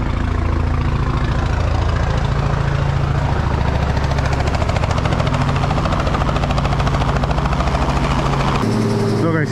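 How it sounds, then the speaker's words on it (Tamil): A helicopter engine runs loud and close in Australia, a steady thrumming drone with rapid rotor chop, a voice talking faintly underneath. "ஹெலிகாப்டர் சத்தத்தில் நான் பேசுறது கேட்குதான்னு கூட தெரியல"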